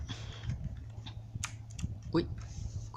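Someone types on an Oker K96 mechanical keyboard with blue Otemu switches, producing a quick run of crisp clicks at close range, some sharper than others, while someone speaks over the keystrokes.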